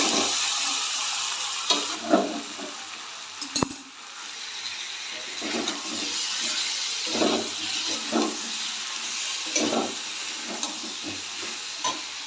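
Water poured into a pan of simmering vegetarian vegetable curry brings a steady sizzling hiss with occasional stirring knocks and scrapes, close and loud, with no talking.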